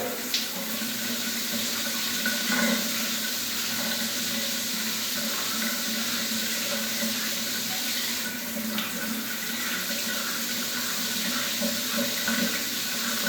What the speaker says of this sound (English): I rinse it under the water